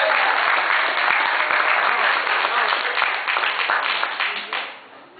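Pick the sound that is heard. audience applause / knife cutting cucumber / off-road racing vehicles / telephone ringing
audience applause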